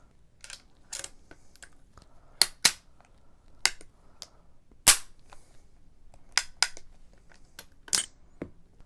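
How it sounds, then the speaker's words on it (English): Model 1873 Trapdoor Springfield rifle action being worked, with a series of sharp, separate metallic clicks and snaps as the hammer is cocked and a cartridge ejects, close and crisp against near silence. "put it in the cock position, put it in the second position, and then it will eject"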